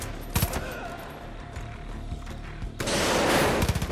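Gunfire in the Far Cry 5 video game: a couple of sharp shots early, a quieter stretch, then a loud sustained burst of shooting near the end.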